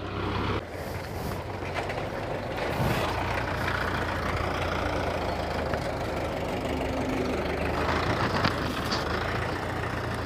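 A Belarus 510 tractor engine runs steadily in low gear, a continuous loud mid-pitched idle-like rumble with knocking texture filling the whole stretch, no voices over it.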